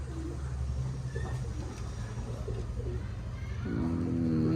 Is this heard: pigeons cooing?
yes